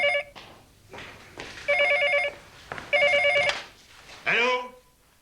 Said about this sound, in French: Hé, le téléphone, Raymond.